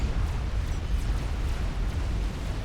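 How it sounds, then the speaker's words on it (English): A battlefield explosion in the real-time strategy game Supreme Commander, heard as a steady, heavy low rumble with sustained noisy roar lasting throughout, no distinct separate blasts. "an explosion on the eastern side here"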